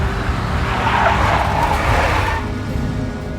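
In the Max Payne video game, a big black Mercedes skids with a loud, sustained tire squeal over engine rumble, lasting a few seconds and fading near the end.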